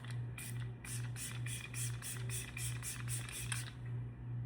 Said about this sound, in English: This is the mini milk makeup setting spray.